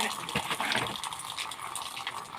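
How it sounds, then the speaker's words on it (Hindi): A cow urinating outdoors, a steady splashing gush of liquid hitting the ground that runs continuously and fairly loud for the whole stretch. "गौ माता भी मुत रही है"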